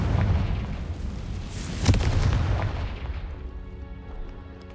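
Hogwarts Legacy Confringo explosion spell going off: a loud booming blast with a sharp burst near the middle, then a long rumbling decay that fades away, no talking.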